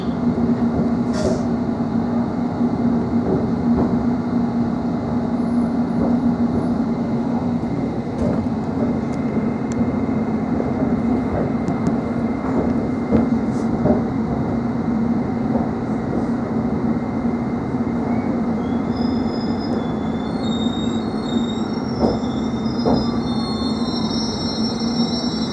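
A London Underground District Line train sits at the Kensington Olympia terminus: a steady loud rumbling hum of the train, high wheel squeals and a few clicks, close and continuous throughout.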